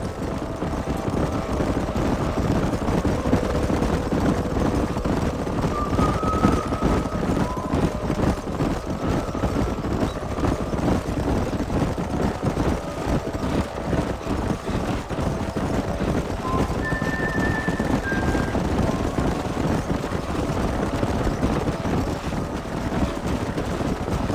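A herd of horses gallops across a canyon in Red Dead Redemption. Steady, dense hoofbeats drum continuously under a windy, noisy rush, with no pause throughout.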